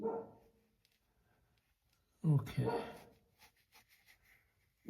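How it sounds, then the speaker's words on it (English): A pet dog barks and yips nearby indoors, a short burst of a few sharp barks partway through, separated by quiet, while a person says a brief word. "dog's barking, sorry about that."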